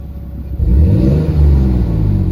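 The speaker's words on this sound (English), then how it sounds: "Exhaust sounds good." A Toyota Supra MK4 engine with a new downpipe revs up close, rising into a loud, deep exhaust roar that holds and pulses before easing slightly.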